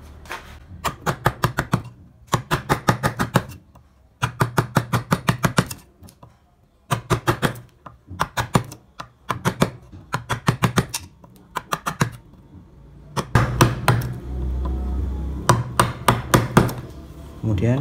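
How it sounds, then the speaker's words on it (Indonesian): A wide gouge chisel is struck with a mallet while carving wood, making bursts of sharp, rapid knocks in repeated rhythmic runs separated by short pauses, close and loud, with a heavier thump near the end. "ini kalian gunakan pahat kol ya"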